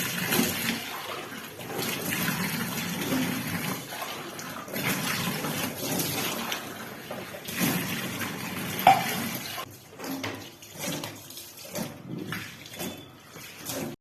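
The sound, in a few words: scrubbing bathroom tiles with Harpic cleaner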